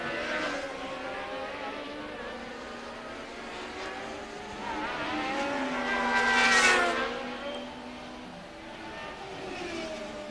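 Formula 1 race cars from the 1981 season scream past in a high-pitched engine wail, rising to a loud peak as they close in and then fading, with continuous racing noise throughout.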